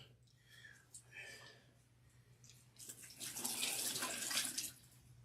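Warm water runs from a portable sink into a basin for a hair-washing demo, swelling into a loud hiss midway, with soft speech and a low hum underneath.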